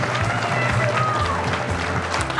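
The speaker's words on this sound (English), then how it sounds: "could we give Abby a massive round of applause" An audience at a property networking event breaks into a loud, sustained round of applause that stays dense and steady throughout, with tonal music sounding underneath.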